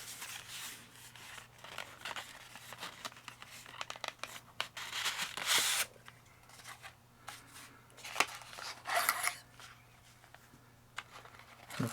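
The box of a Brinyte PL01 penlight kit is opened, with quiet, close crinkling, tearing and rustling of packaging in irregular bursts, plus a few louder rips.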